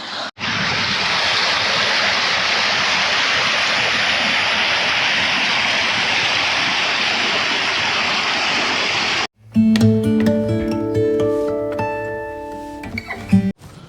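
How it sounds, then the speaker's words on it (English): Steady rushing of a small waterfall in Chitrakoot, India fills most of the stretch, then cuts to a different scene with louder clattering and tonal sounds near the end. "But here's a mini waterfall. Enjoy the sound of flowing water."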